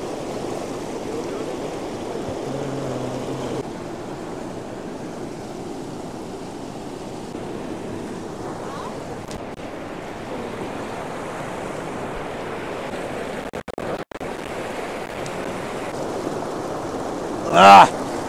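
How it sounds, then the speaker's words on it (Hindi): Bhagirathi river at Gangotri, clear mountain water rushing in a steady loud roar with wind buffeting the microphone, and a brief voice near the end. "बहती हुई ये भागीरथी नदी, आगे चल के जो गंगा मैया बनती है"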